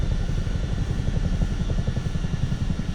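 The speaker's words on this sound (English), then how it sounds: "Look, you can hear the engine powering down again." Simulated Airbus H125 helicopter in Microsoft Flight Simulator 2024, engine powering down: a steady, close, low rotor throb with dense rapid pulsing that holds level through the whole stretch, no voices.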